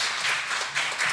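A church congregation at a Sunday service claps to welcome the pastor to the pulpit, producing a soft, steady wash of many hands at a distance.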